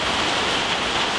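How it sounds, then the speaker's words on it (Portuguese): Heavy rain falling steadily on a recording day, a dense continuous hiss with no breaks, loud and close, with no voices over it. "Esse barulho que vocês estão escutando é o barulho da chuva,"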